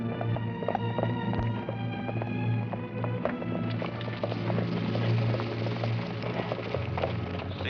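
Horses walking and trotting with steady clip-clop hoofbeats over a constant low rumble, moderately close, with no clear talk.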